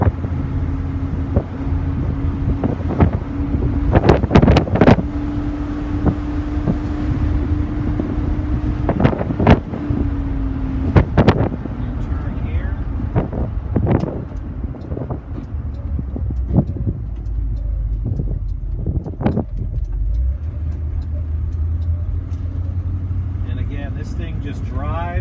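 A 1966 Ford Thunderbird cruises along the road with a steady low engine rumble and wind buffeting, broken by sharp thumps and knocks from the cabin, while someone talks over it now and then.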